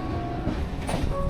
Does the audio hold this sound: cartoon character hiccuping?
no